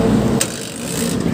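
Kick-started Honda TMX 125 motorcycle with a fault that keeps the engine running after the key is off, idling with a low, steady, close thrum and a couple of brief clicks.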